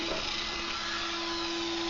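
A power drill whines steadily as it bores into a can pinned against wood, a continuous close motor drone with a sustained tonal hum and no pauses.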